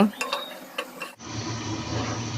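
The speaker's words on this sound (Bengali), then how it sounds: "এখন সবগুলো ভালো করে নেড়ে চেড়ে মিশিয়ে নিব" Beef and chana dal being stirred together in a pot, with soft scraping and clinking of a spoon against the cookware, continuous and close, after a brief stretch of quieter kitchen sounds.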